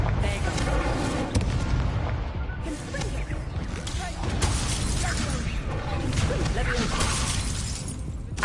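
An Incendio fire spell cast in a video game unleashes a dense, loud burst of crackling, shattering blasts, with a voice talking over the effects.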